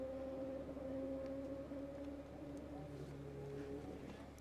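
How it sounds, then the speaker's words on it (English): A Saab car engine drones at high revs from a distance, a steady tonal hum with shifting pitch under wind and background noise, at the Bonneville salt flats. "Engine doesn't sound too happy at the higher RPMs."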